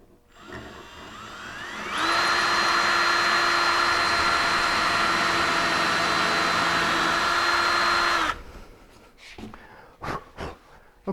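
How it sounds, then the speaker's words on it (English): A power drill bores an end hole in an 8-foot wooden workbench, running as a loud steady whine for about six seconds, then cutting off and leaving a few knocks and handling sounds. "Let's get this end hole drilled."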